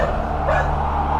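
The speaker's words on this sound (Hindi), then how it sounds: "वो उस लबूबू डॉल को देखकर बहुत जोरों से भौंकने लगा, गुर्राने लगा" A dog barks and growls in a loud sound effect for a horror story, a continuous rough snarl up close.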